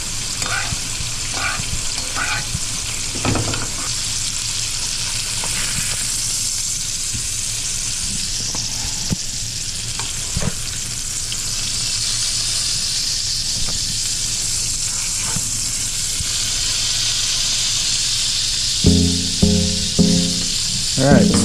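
Rainbow trout sizzles in a pan as wine cooks off, a steady frying hiss throughout with occasional clinks and scrapes, and brief talk near the end.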